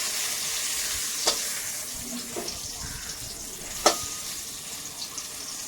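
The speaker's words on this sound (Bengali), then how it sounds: "ওনার জন্য আবার আমি বেগুনটা ভাজছি" Eggplant frying in oil for a vegetarian meal, giving a continuous soft sizzle with a few sharp clinks and taps of a utensil against the pan.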